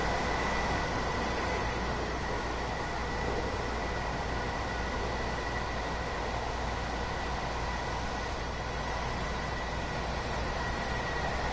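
A train rolling steadily in a train simulator game, a continuous broadband rumble and hiss with a faint whistle-like tone, unchanging for about eleven seconds with no voices.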